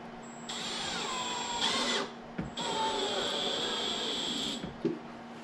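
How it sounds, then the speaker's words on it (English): Power drill driving screws into a wooden bathroom vanity drawer, two sustained whirring runs of about two seconds each with a short pause and a brief stop near the end, close and clear with no talk. "So I'm going to put these screws in, and I'm using the same screws"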